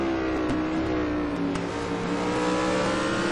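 In a racing video game at Anderstorp, a virtual yellow BMW M3 race car and its rival drone with loud, sustained engine roars and steady rising harmonics, held close and unbroken by any voice.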